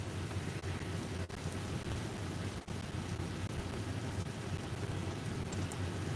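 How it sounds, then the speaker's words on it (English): Heavy rain pouring outside in a steady, dense hiss with low thunder rumbling underneath and a few sharp crackles, filling the whole clip at constant loudness without talk. "Oh, it's raining outside, y'all."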